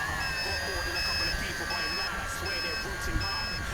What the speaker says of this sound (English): the low voltage buzzer is now going